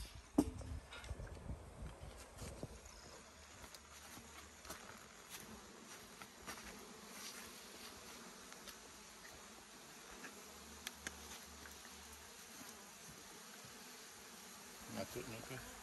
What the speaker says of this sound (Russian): а пчелы продолжают летать на водопой